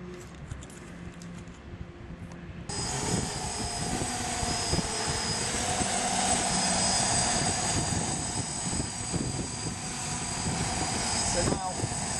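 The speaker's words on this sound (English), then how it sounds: "with the GPS on, it will hold position even in a strong wind like this" An octocopter drone with GPS holds its hover in strong wind, its motors producing a steady, loud broadband whine that swells after a few seconds, with rough wind buffeting throughout.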